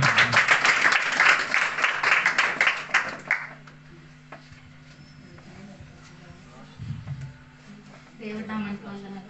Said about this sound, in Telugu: ప్రతి ఒక్కరు కూడా చప్పట్లు కొట్టుకుంటారు.